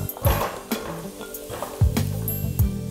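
Pieces of smoked beef go into a saucepan for a Togolese lokofon sauce, with a steady close sizzle and several soft clunks and scrapes as they are dropped in and stirred.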